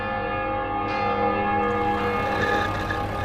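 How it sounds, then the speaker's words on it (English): Church bells from several villages ring in the distance, a sustained, layered peal of overlapping tones that carries steadily on its own. "In the distance, we can hear the bells of Viviers, Mondol, Carfontaine, and Baguères-Morvan."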